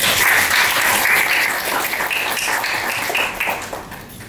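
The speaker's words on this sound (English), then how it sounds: "I think that deserves a round of applause." Audience applause after a talk on arts-based therapy in juvenile justice, a dense steady wash of many hands clapping that stays loud for several seconds and then thins out toward the end.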